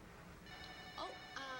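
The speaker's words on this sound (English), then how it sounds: "But we have a phone call." Telephone ringing inside the video game Kentucky Route Zero, a faint electronic ring with a few brief tonal bursts over a steady background hum.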